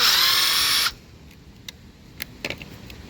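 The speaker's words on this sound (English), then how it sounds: "Unscrew that bolt." A power drill spins out a bolt on a sliding door, whirring loudly for under a second before cutting off, followed by a few light metallic clicks and taps.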